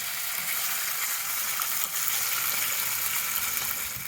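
Bacon fries in a pan, giving a continuous close crackling sizzle at steady level with no talk over it.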